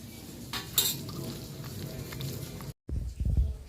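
Spice paste being worked by hand into eggs and potatoes in a bowl for egg angara curry, giving soft squelching stirs and a few light clinks against the dish, then a brief silence before closer, heavier mixing sounds.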